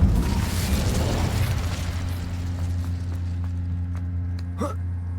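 The Incendio fire spell in Hogwarts Legacy goes off with a loud whooshing burst of flame that settles into a low rumbling hum, followed by a few faint clicks.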